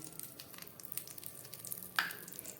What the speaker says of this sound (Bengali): এবার এই গরম তেলের মধ্যে আমি দিয়ে দিচ্ছি একটা শুকনো লঙ্কা ফোড়ন